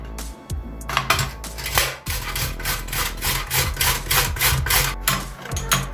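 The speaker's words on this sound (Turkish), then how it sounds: "Öncelikle havucumuzu rendeleyelim." Carrots are grated by hand in quick, rhythmic rasping strokes on a metal grater, with close, scratchy bursts repeating roughly twice a second and a few knocks of the grater in between.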